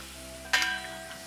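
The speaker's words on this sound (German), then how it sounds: "Und jetzt kommen noch die Eier dazu." Eggs are poured into a pan with chanterelles for an Austrian mushroom-and-egg dish, setting off a sudden loud sizzle that stays steady and then softens over a constant low kitchen hum.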